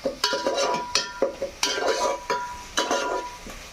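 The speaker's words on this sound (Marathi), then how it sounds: "फटाफट कढीपत्ता आणि कांदा मस्तपैकी परतून घ्यायचा आहे" Curry leaves and onion are stirred in a pan for a home-style river crab dish. A spoon scrapes and clinks against the metal in repeated strokes over a soft sizzle, close and alone.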